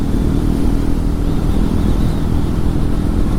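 A Triumph Tracker 400 motorcycle engine revs loud and steady on a test ride, with a constant close engine roar and wind rushing past.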